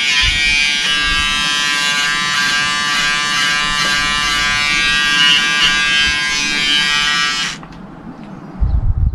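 A Braun electric shaver runs across a beard in a loud, close, steady buzz for about seven seconds, then cuts off abruptly, followed by a brief rustle.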